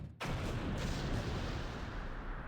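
An explosion in the Blue Archive game breaks in suddenly and loudly after a brief quiet moment. A dense roaring blast of noise follows and sustains for a couple of seconds.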